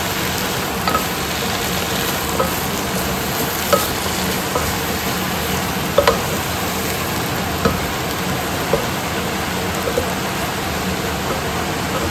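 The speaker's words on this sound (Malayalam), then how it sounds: "തേങ്ങ ഒതുക്കിയാണ് ഒന്ന് ഇളക്കി തട്ടിപ്പൊട്ടിയിട്ട് വരും." Drumstick-leaf thoran with crushed coconut cooking in a pan, a steady, even sizzle and hiss throughout with occasional faint scrapes of stirring.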